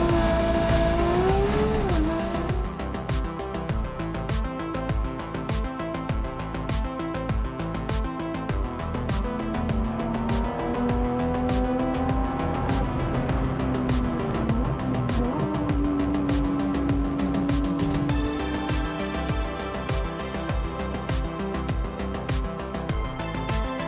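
Porsche GT3 with a JCR exhaust accelerating hard through the gears, a loud rising engine wail broken by shift drops and sustained revving, with occasional tire noise.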